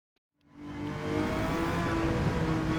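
Gr3 race car in Gran Turismo 7 at Circuit de la Sarthe accelerating out of silence, engine note rising and swelling to a steady loud roar with gear-driven whine, no talk.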